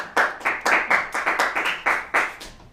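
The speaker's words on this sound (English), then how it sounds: "Yes, applaud again, please." Clapping at a mall Santa appearance comes as about ten sharp, close hand claps in a quick, fairly even rhythm, with no voices over them.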